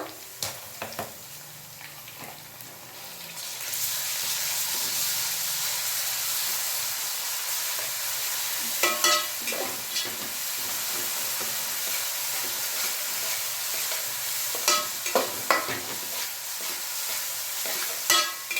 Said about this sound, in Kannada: ಚೆನ್ನಾಗಿ ಶುಂಠಿ ಬೆಳ್ಳುಳ್ಳಿ ಪೇಸ್ಟು ಫ್ರೈ ಆಗಲಿ ಹಸಿ ಸ್ಮೆಲ್ ಹೋಗಲಿ